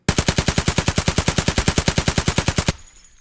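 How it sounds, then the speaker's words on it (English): A UMP submachine gun in Escape from Tarkov fires a continuous full-auto burst of about two dozen rapid, evenly spaced, loud shots, then cuts off into a brief fading tail. "I'm just going to hold mouse 1 and we can kind of watch how it climbs."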